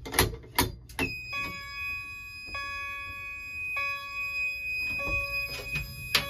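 A fire alarm control panel and a chime strobe sound after an MS-301C pull station is activated, with steady tonal beeping and chime pulses starting and stopping in sequence, fairly quiet and close.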